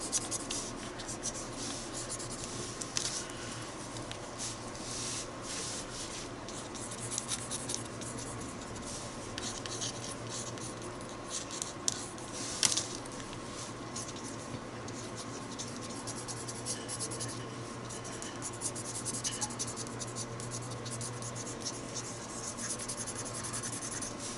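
A pencil sketches a face drawing on paper, a close, steady scratchy rubbing of strokes running continuously with occasional sharper ticks, no voices.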